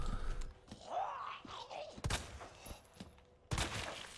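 Several sharp gunshot-like bursts from Resident Evil 2 Remake, loud and close, firing in quick irregular clusters with brief gaps between.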